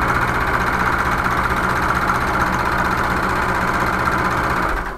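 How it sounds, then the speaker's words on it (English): A sewing machine runs steadily through several layers of fabric, its motor giving a dense, even whir that holds at constant loudness for about five seconds before easing off at the very end. "We're going to sew. And we're sewing through several layers of fabric here."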